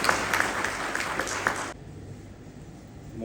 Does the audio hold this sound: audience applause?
yes